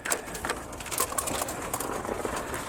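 Silver quail in an outdoor hutch during extreme cold make soft chirps and short calls, with scattered rustles and taps over a steady windy outdoor background.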